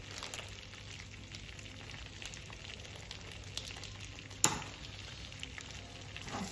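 Paprika and cumin fry in a pan with a soft, continuous sizzle, faint and close, broken by light stirring scrapes and one sharp clack partway through.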